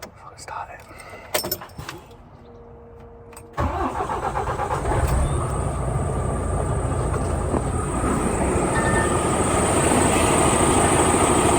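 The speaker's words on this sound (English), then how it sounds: "the only way to describe it is like a compressor noise" An 18-plate HGV truck starts up and settles into a loud, steady engine drone with a rough, compressor-like whine layered over it, close and continuous after a few clunks and handling noises at the start.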